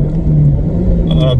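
A car with a failing automatic gearbox, held in third gear, gives a loud steady engine drone with a low rumbling tone heard from inside the cabin, with a voice speaking over it.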